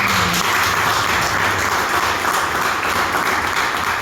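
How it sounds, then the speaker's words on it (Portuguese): Loud, continuous applause from a church congregation, a thick roar of many people clapping together, unbroken from start to finish with only a brief low tone at the outset. "Vamos dar um aplauso ao Senhor Jesus"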